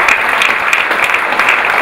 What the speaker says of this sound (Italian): chiedo a voi un applauso per questa mostra bellissima